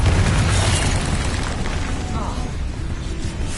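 Spell explosions booming one after another in the Hogwarts Legacy video game, loud, dense blasts and bursts filling the scene with heavy low rumble throughout.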